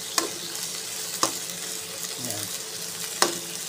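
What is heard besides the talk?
pork steak being sautéed in a pan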